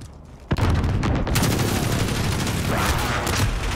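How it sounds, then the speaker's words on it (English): Precision airstrike explosions in Modern Warfare begin with a sharp blast, then a dense, continuous roar of rumbling detonations that stays loud throughout the short stretch. "Be advised, friendly precision airstrike inbound."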